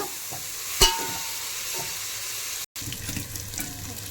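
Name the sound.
cabbage frying in a pan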